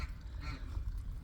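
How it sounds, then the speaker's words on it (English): Domestic fowl calling outdoors on a cold, sunny day, with low-pitched honking and quacking notes mixed into steady low rumble and faint background noise over a short stretch. "beautiful, beautiful birds"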